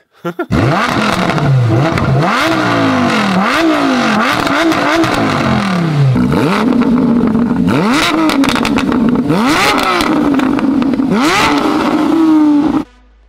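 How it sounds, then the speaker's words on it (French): A Porsche 911 GT3 engine starts and is revved repeatedly, loud and close, with rising and falling whines in quick blips, then a longer sustained high rev before cutting off. "Non, ma Porsche a démarré du premier coup."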